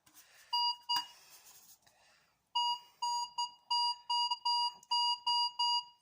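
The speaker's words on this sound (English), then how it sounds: "the metal detector will find one" A Minelab Vanquish metal detector sounds over a Foster's beer can with a burst of loud electronic tones, then a run of regular repeated beeps, close up and with no speech.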